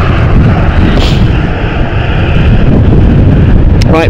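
An airliner's engines roar at Stansted Airport on a Saturday, a loud, broad rumble heard close up, with buffeting wind noise on the microphone.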